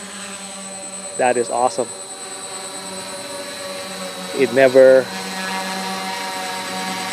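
Drone motors with a NAZA Lite flight controller hum in a steady whining drone that holds throughout, while a person talks in two short bursts over it.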